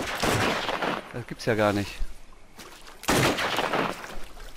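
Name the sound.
gunfire from a machine gun in video game Mafia 3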